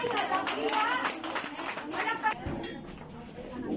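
A church congregation at a Thanksgiving service claps together, quick rhythmic hand claps mixed with chatter and children's voices, fading out toward the end.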